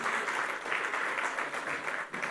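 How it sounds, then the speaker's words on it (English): An audience claps steadily at the Caribbean Global Awards 2023 ceremony, a dense, even applause from a crowd that carries on throughout. "Give her a round of applause."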